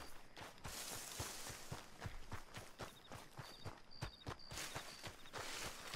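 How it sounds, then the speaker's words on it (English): Horse hooves clip-clopping in Red Dead Redemption 2, a steady run of sharp, close hoof strikes at an even rhythm with a faint high tone in the middle. "Our very own horse."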